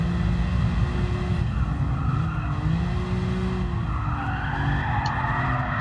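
Car tires skidding under braking in Gran Turismo Sport, a steady loud engine drone with a rising squeal of rubber across the whole stretch, no voices.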